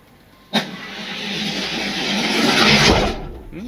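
A model race car heat at a garage race day, a brief sharp start click followed by a steady rising whir of small motors that swells for about two and a half seconds and fades as the cars finish.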